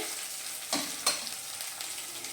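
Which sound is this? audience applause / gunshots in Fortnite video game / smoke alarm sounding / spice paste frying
spice paste frying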